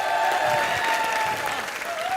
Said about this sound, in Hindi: सबसे पहले हाउसफुल के सारे सुपरस्टार्स के लिए जोरदार तालियां